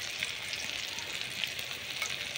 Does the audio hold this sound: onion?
yes